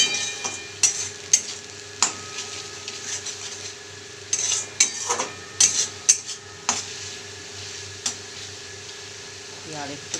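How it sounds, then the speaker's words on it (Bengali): Masala stir-fried with cumin powder in a pan for a rohu fish kalia, with a low background sizzle under repeated sharp clinks and scrapes of a spoon against the pan. "এই জিরে গুঁড়োটা দিয়ে এবার এটা ভালো করে কষে নেব।"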